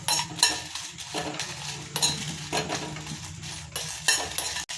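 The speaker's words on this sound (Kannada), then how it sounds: "ಈಗ ಒಣಮೆಣ್ಸಿಕಾಯಿ ಹಾಕಿದ್ದೀನಿ ಇದನ್ನು ಸಣ್ಣ ಊರಿನಲ್ಲೇ ಹುರ್ಕೋಬೇಕು" Dry red chillies stirred and roasted over low heat in a metal pan for an obbattu sambar, a utensil scraping and clinking against the pan in repeated strokes, fairly close, with a faint sizzle and no talk.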